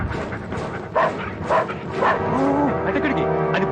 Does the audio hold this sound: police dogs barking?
yes